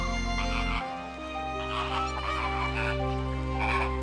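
A flock of flamingos gives honking, goose-like calls in the morning, the overlapping cries repeating in bursts over a steady droning musical backing that carries throughout.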